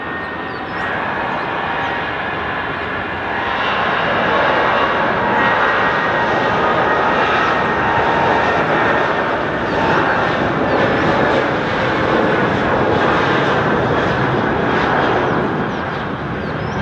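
Departing from runway 14 at Dhaka airport, an airliner's engines thunder in a sustained, powerful roar that builds early and stays loud and even for the whole stretch, alone without talk.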